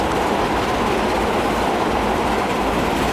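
A Transport Fever 2 train running at 89 mph produces a dense, continuous roar of wheels on track, loud and unbroken, with no voices.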